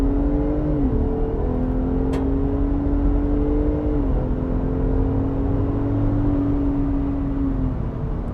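Ford F-150 Raptor pickup truck accelerating on a road from inside the cab: a steady engine drone that climbs in pitch through several gear shifts under constant road noise, with no talking.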